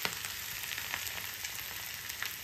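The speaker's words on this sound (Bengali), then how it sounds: "মশলাটা ভালো করে ভাজা।" Spices frying in a pan for a potato filling: a continuous close, crackling sizzle with small bursts of spitting, no one talking.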